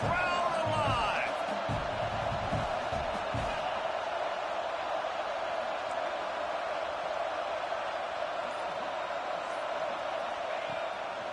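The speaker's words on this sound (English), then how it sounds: "Crowd alive." A football stadium crowd roars steadily through a red-zone third-down play in a college game, a constant wash of cheering under a commentator's voice.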